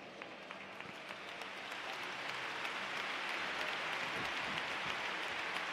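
An audience at a church youth convention applauds, a dense, sustained patter of clapping that swells slightly and holds steady, heard from within the hall.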